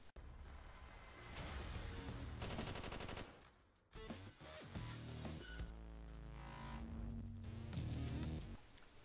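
Rapid automatic gunfire and machine-gun bursts sound in Call of Duty: Black Ops II multiplayer, including fire from a placed Guardian turret. The bursts are loud and sustained with brief gaps, layered over game effects.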